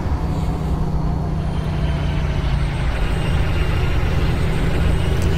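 Kenworth T680 truck engine in American Truck Simulator, heard from outside as a steady, loud low rumble that holds even throughout without letting up.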